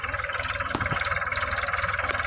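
A tractor engine idles at a groundnut harvest in Gujarat, a close, steady chugging with a rapid even pulse, broken by a brief knock partway through.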